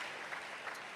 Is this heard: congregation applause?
yes